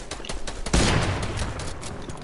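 Rapid bursts of gunfire from a video game, loud and close, with a dense sustained volley starting near the middle and continuing steadily to the end.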